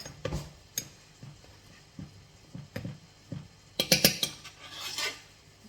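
Metal spoons clink and tap repeatedly against each other and a tray in a home kitchen, with sharp irregular strikes, a denser cluster of bright clinks toward the end, and no talking.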